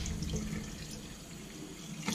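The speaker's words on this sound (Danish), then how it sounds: "Og så kan man tænde på vandet." A newly installed kitchen mixer tap runs water into the sink with a steady, soft splashing hiss, fairly quiet and close for a couple of seconds, with no voices.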